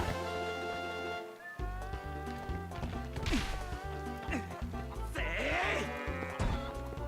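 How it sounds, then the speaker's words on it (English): Goat bleating in Zelda: Twilight Princess HD, a few wavering bleats rising over a bright, busy game music score with chiming notes and occasional thumps, mixed with in-game voice sounds. "A goat got loose!"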